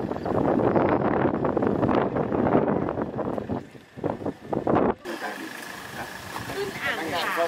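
Strong wind gusting through a mountain gap in Thong Pha Phum, Kanchanaburi, buffeting the microphone in heavy rumbling bursts, with people talking over it before the sound shifts to a quieter, vehicle-like hum.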